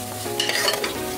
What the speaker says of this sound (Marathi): आलं लसूण पेस्ट चांगली परतून घेऊया।